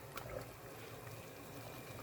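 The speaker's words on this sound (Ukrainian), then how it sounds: "Кидаємо перець у кип'ячу воду" Peppers dropped into a pot of boiling water give one faint splash near the start, then a steady, quiet bubbling and watery churn.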